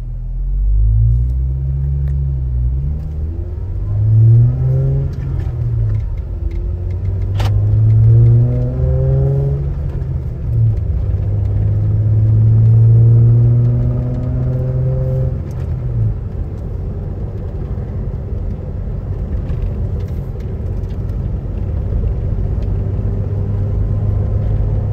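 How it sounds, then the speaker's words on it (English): A 2013 Jeep Wrangler Unlimited Sahara, four-wheel drive with manual transmission, heard from inside on a test drive: a loud, deep engine rumble rising and falling through several gear changes, with road noise throughout and no talk. "All right, we'll go ahead and take it on a quick test drive."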